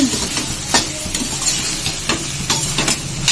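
Leafy greens sizzle in a pan with salt and chili while a spoon stirs them, a close, steady frying hiss broken by repeated scraping strokes at an irregular rhythm.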